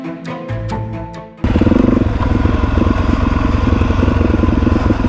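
A gravel-riding adventure motorcycle on trail ticks over with a few throttle blips, then surges into a loud, close, continuous engine roar as it pulls away and rides on.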